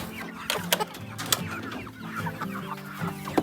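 Several chickens in a chicken tractor cluck close by, with overlapping short calls and a few louder squawks against a busy farmyard background.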